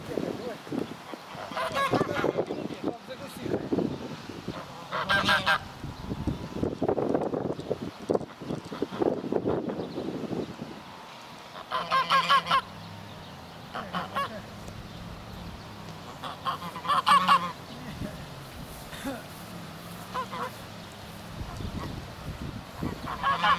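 Geese honking in repeated bursts, some close and loud, others farther off, with wind buffeting the microphone and people talking now and then.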